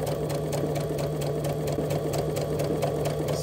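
A sewing machine stitches skirt fabric as a young child sews, whirring steadily and close by for a few seconds with an even mechanical hum and no talking.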